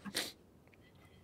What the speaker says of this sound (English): Sneezing, coughing.